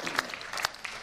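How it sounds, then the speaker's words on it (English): An audience at a community arts and culture event applauding, with a short burst of hand clapping that carries at moderate loudness across the whole second. "So a big round of applause for them."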